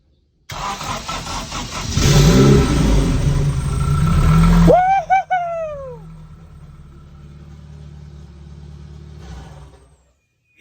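A Honda engine rated for 900 hp, fitted into a Porsche 911, cranks and catches with a loud, steady rumble, then gives one sharp rev that falls away as it settles into a smooth, even idle.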